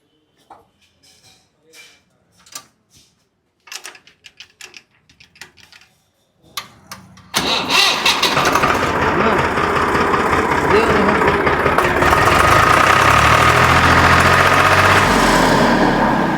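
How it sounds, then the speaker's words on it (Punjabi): A 1997 model tractor engine starts up after a stretch of talk and a short cranking burst, then settles into a loud, close, steady running rumble. "ਇਹਨੂੰ ਸਟਾਰਟ ਕਰਿਓ ਟਰੈਕਟਰ ਨੂੰ ਆਪੇ ਦੀ ਵੜਕ ਵੀ ਦੇਖ ਲਈਏ ਯਾਰ"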